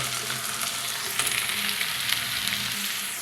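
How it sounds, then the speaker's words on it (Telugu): Bottle gourd pieces dropping into frying masala, a continuous close sizzle with a few stirring knocks and pops throughout. "ఇప్పుడు దీనిలో కట్ చేసి పెట్టుకున్న ఆనపకాయ ముక్కలు వేసేస్తాం"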